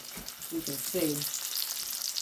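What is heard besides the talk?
breaded thick pork chops frying in batter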